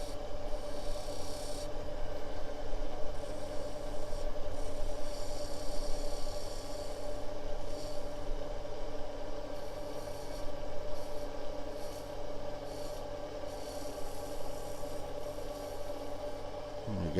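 A woodturning gouge cuts and shapes a spinning piece of wood on a lathe, giving a steady, continuous scraping rasp with a constant motor hum underneath, close and fairly loud without speech.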